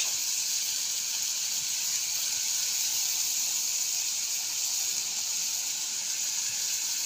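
Fish cooking in spiced oil sizzles steadily after lemon juice is added, a loud, constant hiss of frying that holds evenly throughout with no speech.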